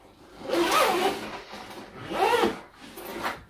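The zipper on a Pomoly Timber Lite titanium stove bag is pulled in two or three quick rasping strokes, close and crisp, with short pauses between runs.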